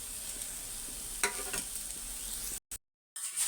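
Chopped onion and green chilli fry in oil in a pan for a Telugu-style fry, a steady soft sizzle with a brief stirring clatter, then short dropouts before the sizzle returns.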